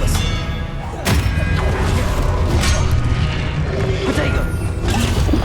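A spell-casting effect from the Hogwarts Legacy video game, during a duel in Charles Rookwood's Trial: a sharp burst at about one second, then mechanical clanks and thuds over a steady, busy game soundscape with a voice in it.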